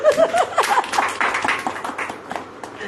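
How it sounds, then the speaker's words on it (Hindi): An audience at a religious sermon breaks into a brief burst of clapping that is loudest at the start and thins out over about three seconds, mixed with a few vocal sounds. "ताली बजाइए"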